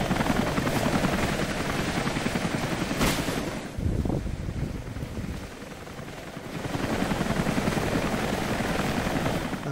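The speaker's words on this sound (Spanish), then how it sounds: "ahí está el helicóptero que andamos buscando" Helicopter in the Rise of the Tomb Raider video game, a loud, steady rotor roar with a brief dip and burst midway, continuing near and dominant without speech.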